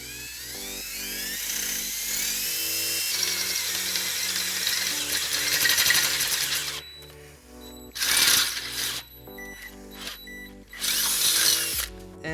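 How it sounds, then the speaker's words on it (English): A handheld power drill with a 3/8 bit bores holes into a 2012 Fiat 500's front structure, its motor whining loudly and steadily, then stopping and restarting in short bursts near the end. "Now we're gonna use a 3/8 drill bit to drill that out."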